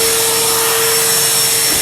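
A vacuum cleaner runs close and loud with a steady, unbroken roar while cleaning up tile work and grout lines sawed out of a shower floor, alone with no voices.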